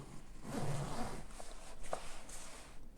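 The zipper of an Apple Vision Pro travel case is pulled open, a faint close-up rasping drag lasting a couple of seconds amid quiet handling noise.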